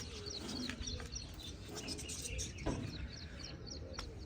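A pair of doves coos softly in a pigeon loft, repeated low calls amid faint chirps and a steady background hiss.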